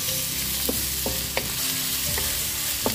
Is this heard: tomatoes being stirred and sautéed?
yes